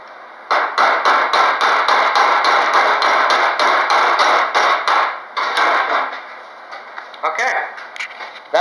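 A stick welding electrode is struck on a metal anvil with a rapid run of loud, ringing hammer blows, about twenty hits in a steady rhythm that falters and stops near the end.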